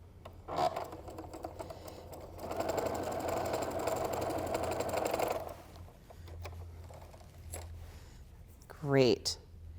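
Home sewing machine stitching half-square triangle pieces for a quilt, a steady whirring run of a few seconds at moderate level, with a voice speaking briefly afterward.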